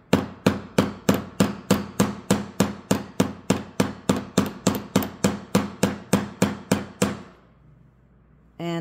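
Jewelry wire is struck with a hammer to harden it, about twenty-five sharp, even metallic taps in a steady rhythm, loud and close, then they stop and a quiet pause follows.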